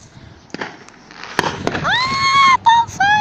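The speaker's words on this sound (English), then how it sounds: "Fireworks!" Fireworks bursting on bonfire night, heard outdoors as a few sharp pops and thuds followed by rising whistling shrieks, with passing car noise in the background.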